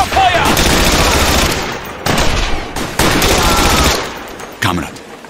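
A sustained barrage of heavy gunfire in a war video game, dense and loud, rolling on continuously with brief pauses and a final sharp burst as it fades.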